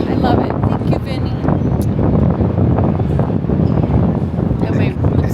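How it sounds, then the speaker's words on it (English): Steady wind gusting across a breezy hotel rooftop in San Juan, Puerto Rico, a loud continuous rush buffeting the microphone, with people talking throughout. "It's very breezy up here"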